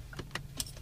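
Car keys jangle in a few quiet, brief metallic taps inside a car with its engine idling low underneath.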